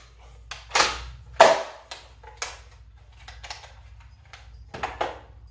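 Nerf Rival Kronos XVIII-500 pistol blaster firing, several sharp snapping shots at irregular intervals, fairly close, over a faint low hum.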